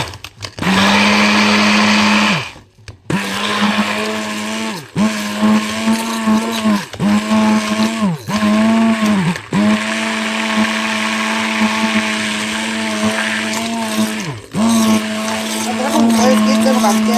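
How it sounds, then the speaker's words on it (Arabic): A hand blender whirs through milk, sugar and raw cocoa in short bursts, its steady motor hum stopping and restarting several times, loud and close, with someone talking faintly at points. "وهضربهم بالهاند بلندر اهو بشويش كده، واحده واحده"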